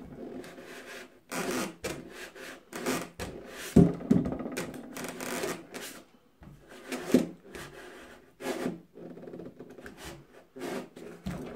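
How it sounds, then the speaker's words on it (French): A hobby knife slowly cutting a part from an Altaya Train des Alpes model train kit, heard as intermittent short scraping and rubbing strokes with pauses between, close and fairly quiet. "Je continue tout doucement à découper."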